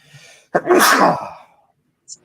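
One loud, close sneeze with a sharp intake and forceful burst, followed by silence.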